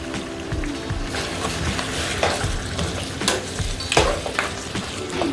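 Ginger garlic paste frying in a karahi for beef karahi, a continuous hissing sizzle broken by repeated scraping stirs and light metal clinks of a spoon against the pan, close and fairly loud with no speech.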